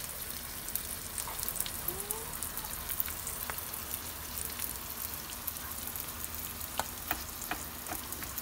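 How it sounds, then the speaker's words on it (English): Cabbage and egg batter frying in a pan give a steady, even sizzle with scattered small pops and crackles, fairly quiet and continuous throughout with no voices. "Fry lang natin."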